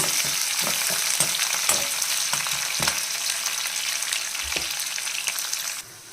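Onions and curry leaves fry in hot oil with a steady crackling sizzle, broken by repeated stirring scrapes and clicks near at hand; no one speaks.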